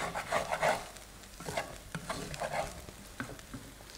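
Fried rice with pineapple and curry powder being stirred in a hot pan, with a spatula scraping and tossing while the rice sizzles and crackles continuously up close.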